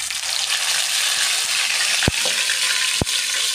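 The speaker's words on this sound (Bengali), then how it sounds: "সাদা তেলটা গরম হয়ে আসলে পরে দিয়ে দিচ্ছি আমরা আমাদের এই বড়াগুলি।" Kechki fish fritters wrapped in ash gourd leaves frying in hot white oil, a steady close sizzle with two sharp metallic clinks of a utensil against the pan, no voices.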